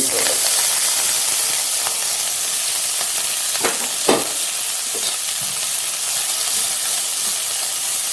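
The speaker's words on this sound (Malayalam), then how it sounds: "കടുക് എല്ലാം പൊട്ടിയിട്ടുണ്ട് നമുക്ക് ഇനി ഇതിലേക്ക് ഇല" Ponnankanni spinach leaves hit hot oil where mustard seeds have already popped, giving a steady, moderately loud frying hiss with occasional stirring scrapes and light clicks, and no voice.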